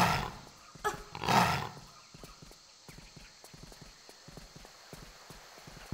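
A tiger in Tomb Raider 3 lets out a loud roar in the first two seconds, then a run of rapid, light, evenly spaced footfalls patters on as the sound fades.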